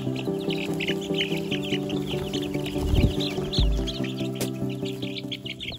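Chickens clucking and chirping softly at a moderate distance over a steady low hum, with a brief louder thump near the middle.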